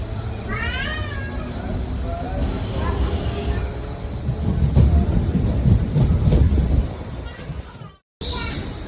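A MEMU commuter train starting out of Pocharam station in rain, with a low rumble and rattle building steadily over several seconds, high squeals near the start and a voice talking over it.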